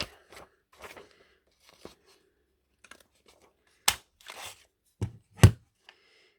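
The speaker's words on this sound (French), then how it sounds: "ça arrondit l'angle et ça nous fait une petite découpe de ouf" Several short, crisp snaps of a corner punch biting through paper, with faint rustling between them, close and otherwise quiet.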